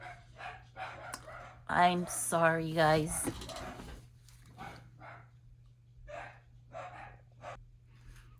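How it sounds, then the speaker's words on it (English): A small dachshund barks in a quick burst of a few sharp yaps, close by, while a person talks before and after. "always barking at everything."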